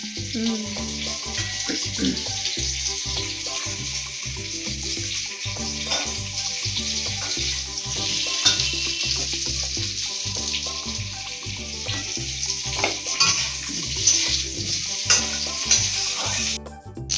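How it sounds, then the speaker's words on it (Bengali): Chopped onions sizzle steadily in a hot pan while a utensil scrapes and stirs them in a regular rhythm, close and fairly loud, with brief sink-water sounds in the background and no talking. "পেঁয়াজ ভাজাটা সেন্টটা ভালো উঠেছে না?"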